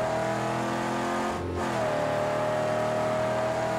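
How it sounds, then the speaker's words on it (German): Car engine accelerating in the Mad Max video game, a steady loud drone with a brief dip before the revs climb again and hold. "Und jetzt einfach nur noch Gas geben."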